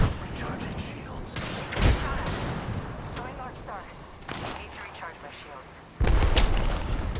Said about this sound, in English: Yeah, both teams shooting at us.